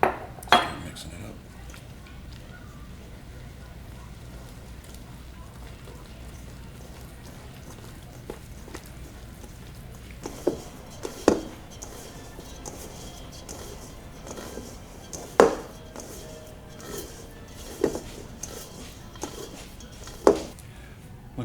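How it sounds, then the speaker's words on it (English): Sourdough bread dough being mixed in a bowl, with soft, muffled stirring and scraping broken by scattered sharp clinks of utensil against bowl, close by in a quiet kitchen. "Start mixing it up."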